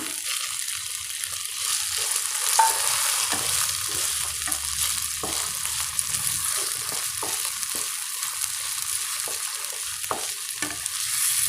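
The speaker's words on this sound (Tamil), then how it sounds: "இப்போ நாம் தக்காளி சேர்த்துடலாம்." Ginger garlic paste and tomato frying in a pan, a steady hiss of sizzling with regular scraping stirs throughout, close and moderately loud, no voices.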